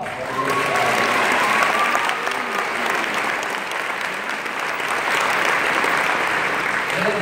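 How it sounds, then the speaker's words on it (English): A large corporate-event audience applauds steadily and loudly for about seven seconds, a dense wash of clapping with faint voices mixed in. "Steve Elders, the entire corporate team a big round of applause."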